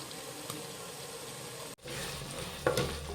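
Ginger garlic paste sizzles in hot oil in a pan for a Kerala-style sardine fish curry, a steady close frying hiss with a brief cut partway and a clink of stirring near the end.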